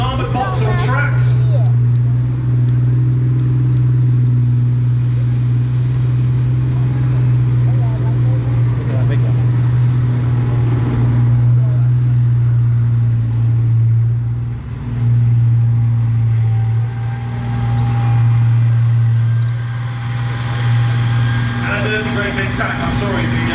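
An armoured tracked vehicle drives past at a tank museum show, a loud steady engine drone with a strong low hum and track rumble close by, while someone talks over it.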